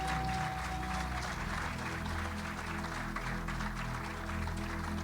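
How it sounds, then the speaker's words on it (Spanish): A church congregation at an evangelical sermon on the gospel of the kingdom breaks into loud, sustained applause, dense continuous clapping with cheering that fills the whole stretch. "Dale un aplauso a Jesús fuerte."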